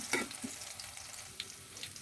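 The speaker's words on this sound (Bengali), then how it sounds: "পেঁয়াজ রসুন ভালো করে ভাজা হয়ে গেছে" Onion and garlic fry in a pan with a faint, steady sizzle and a couple of soft spatula taps near the start, heard close but quiet.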